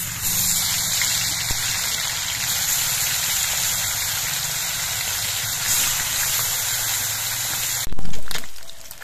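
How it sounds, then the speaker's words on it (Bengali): Fish fries in oil in a wok, a constant loud hiss and sizzle that runs throughout, ending with a brief louder burst of clatter near the close. "বাকি মাছগুলো আমি ভেজে নিচ্ছি"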